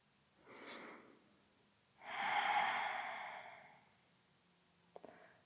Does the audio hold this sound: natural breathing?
yes